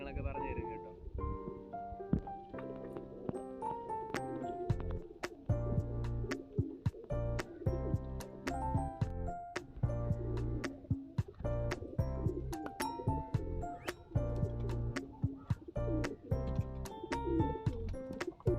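Pigeons coo repeatedly while being flown and fed, their soft throaty calls mixing with chirps and clattering sounds as someone talks over them throughout.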